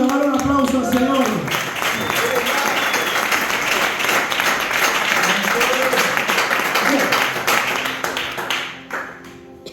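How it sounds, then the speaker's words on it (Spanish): After a short spoken phrase, a church congregation bursts into sustained clapping that holds steady for several seconds, then tapers off toward the end. "dale un aplauso al Señor."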